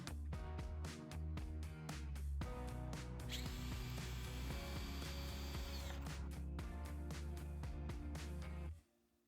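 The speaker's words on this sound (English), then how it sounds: "Using a drill with the appropriate bit for the pocket screws speeds up attaching the vertical supports to the long side rails." A power drill drives pocket screws into the wooden side rails and vertical supports of a DIY garden box, whirring loudly in repeated bursts with brief pauses, then a sustained run and a final stop.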